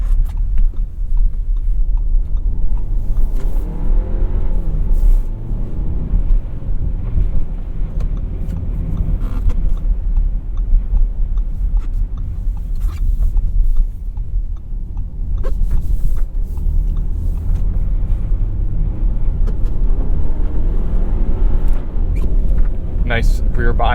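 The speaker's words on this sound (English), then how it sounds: "Get on some more snowy road here and test out this Quattro all-wheel drive" A 2021 Audi Q5 Quattro with all-wheel drive driving along a snowy road, a steady low engine and tyre rumble with wind noise inside the cabin as someone talks over it throughout.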